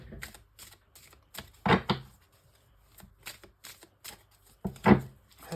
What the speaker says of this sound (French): je vais prendre quelques cartes avec l'oracle Annabella